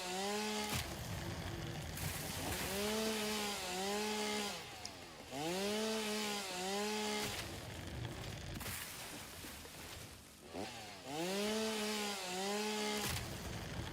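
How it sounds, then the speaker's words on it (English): Chainsaw in a survival video game, running in repeated bursts: the engine revs up, holds a buzzing whine for a second or two, then drops back to idle, roughly five cycles, loud and close with no talking. "I love the sound of chainsaws."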